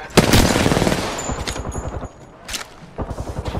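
Loud automatic gunfire in Apex Legends, rapid bursts of close shots in the first two seconds, then a short gap before another volley near the end.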